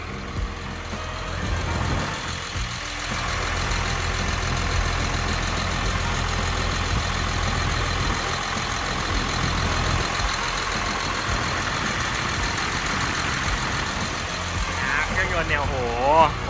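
A Caterpillar 962H wheel loader's heavy diesel engine idles steadily with a low, continuous rumble that keeps going throughout, with nothing standing out over it.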